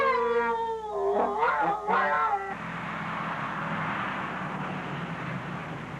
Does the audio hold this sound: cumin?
no